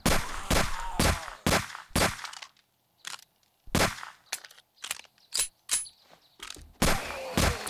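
Pistol shots ring out in the zombie survival game 7 Days to Die, a dozen or so sharp, close cracks fired in uneven bursts with short silent gaps between them.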